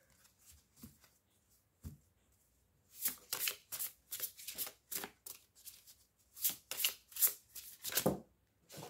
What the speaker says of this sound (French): Je vais chercher une autre carte.